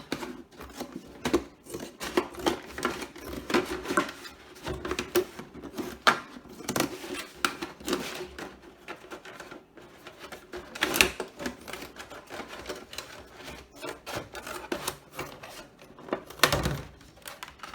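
Scissors cutting the side out of a plastic jug, a string of irregular close snips and crinkly plastic crackles with short pauses, no talking.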